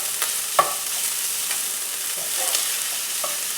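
Mushrooms sauté over high heat for a spinach, mushroom and sausage quiche, a soft, steady frying hiss with scattered scrapes and taps from stirring.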